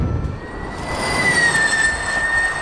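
A high electric whine rises steadily over rushing road and wind noise as an electric 2019 Audi Formula E race car speeds past close by.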